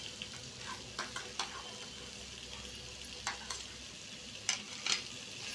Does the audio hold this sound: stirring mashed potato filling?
yes